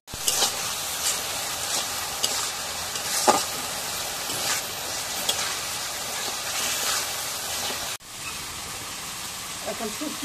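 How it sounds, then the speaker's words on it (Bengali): Dry spices for a taro curry sauté in oil with a dense, even sizzle and occasional stirring scrapes, a brief break near the end before the frying hiss resumes more softly. "এখন শুকনো মশলাটা কষানো হয়েছে"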